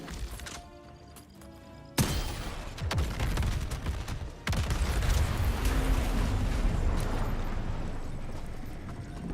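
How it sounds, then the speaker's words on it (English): A hellbomb explosion in the video game Helldivers 2: a sudden loud blast hits, then a second heavy boom follows and leaves a long, roaring, rumbling wash of debris and noise that slowly fades. "What are you hellbombing?"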